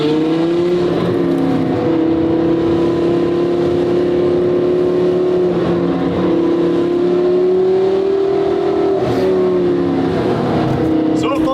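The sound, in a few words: car engine climbing hill in second gear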